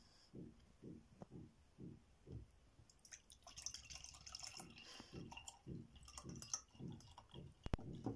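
Cocktail liquid is poured into a glass at home, first in a run of soft rhythmic glugs and then in a brighter, splashier stream, quiet and close with no voices.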